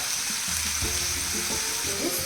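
Chana masala with tomatoes being stirred in a pan, a steady sizzle with scraping and clinking of the spoon running throughout, close and fairly loud with no talking.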